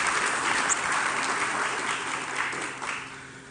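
Audience applause at a Trinidad and Tobago corporate event, a continuous wash of many hands clapping at steady volume, easing slightly toward the end with no talking over it.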